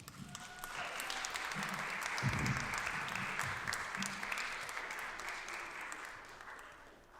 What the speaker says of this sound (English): Can we get another round of applause for Shreya?